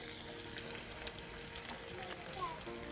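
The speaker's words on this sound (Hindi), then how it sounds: "अब इसमें हम ये अदरक और लहसुन और सब्ज़ मिर्ची जो इसमें मशीन में हमने क्रश करके रखी हुई थी वो हम डाल देते हैं।" Crushed ginger, garlic and green chili fry with onion in a pan for a chicken feet curry, a soft steady sizzle heard fairly close but quiet throughout.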